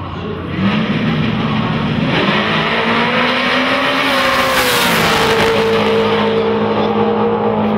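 Street cars drag racing in a grudge race, engines revving hard and climbing in pitch as they launch and accelerate down the strip, loud and close with a brief tire squeal, no voices over it.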